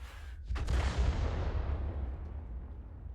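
A single boom of artillery fire from a tank game: a sudden heavy blast with a deep low rumble that lingers and fades slowly over a few seconds, close and alone.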